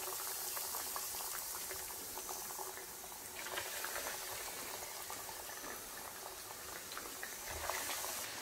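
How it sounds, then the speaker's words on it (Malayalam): Nargisi kababs dropped one by one into hot oil to fry slowly, a soft, steady bubbling and hiss with fine crackles that continues evenly throughout at a low level. "നമുക്കതിലേക്ക് ഈ കബാബ് ഓരോന്നായി ഇട്ട് കൊടുക്കാം"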